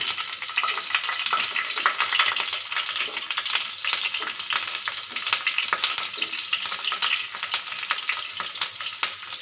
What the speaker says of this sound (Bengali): দিয়ে দেবো কালো জিরে ফোড়ন দিয়ে দেবো কাঁচা লঙ্কা